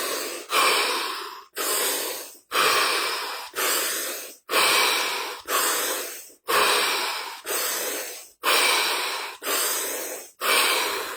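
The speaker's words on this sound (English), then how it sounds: "7 deep breaths." Nine or ten long, loud breaths follow one another in an even rhythm, each a forceful airy rush close to the microphone with brief pauses between, during a deep-breathing exercise.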